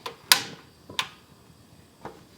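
A gas stove burner is lit with a few sharp igniter clicks, two close and crisp, then a fainter third, in a quiet kitchen.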